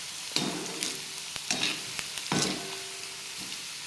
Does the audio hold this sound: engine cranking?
no